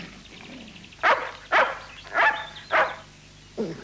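A cartoon dog barks five times in short, sharp bursts at roughly even half-second intervals, close and clear over a quiet background.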